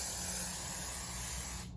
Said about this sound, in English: a good spray of hairspray because I'm too cheap to buy fixative